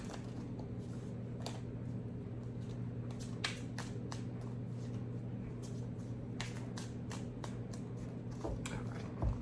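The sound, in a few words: shuffling tarot cards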